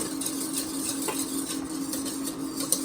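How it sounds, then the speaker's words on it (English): A spoon stirs a cacio e pepe mixture of pasta, cheese and pepper in a pan, giving soft repeated scraping and clinking strokes close by, over a steady low hum, with no talk. "So I've continued to stir this mixture."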